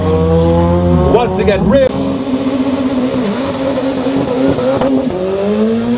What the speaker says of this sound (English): Steve Harris in his Doran Motorsport rallycross car, and he's still rally.